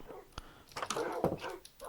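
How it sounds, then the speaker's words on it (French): Dogs in the Minecraft video game bark and whimper in short, soft bursts, a few quick yips and whines layered close together over just a couple of seconds. "est-ce que j'ai pas à manger pour les chiens?"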